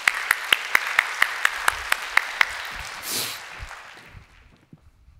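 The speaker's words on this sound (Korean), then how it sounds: "우리 나올 때 박수로 우리 격려해 주시기 바랍니다" A church youth-service congregation claps to welcome a young woman coming up to give her Thanksgiving testimony: about a dozen sharp, evenly spaced claps in a steady rhythm, then a brief noisy swell that fades into quiet.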